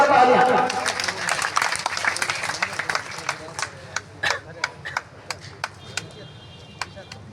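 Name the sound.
audience applause at award ceremony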